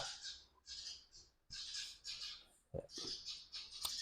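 Two sparrows give repeated sharp, chattering chirps in quick bursts, fairly close, with brief gaps between calls.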